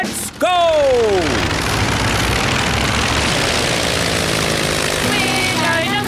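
A cartoon airplane takes off with a rising whistle-like engine tone that bends downward, then a steady loud engine roar that runs on continuously.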